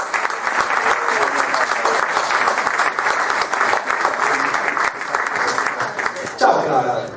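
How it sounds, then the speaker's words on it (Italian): An audience at an Italian talk on cinema and feminism breaks into loud, dense applause that rolls on steadily for several seconds, then shifts and thins out near the end. "le facciamo un bel applauso"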